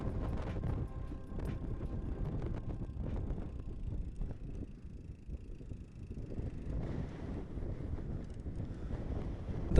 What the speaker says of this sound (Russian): Ох, сегодня ветрище, это просто...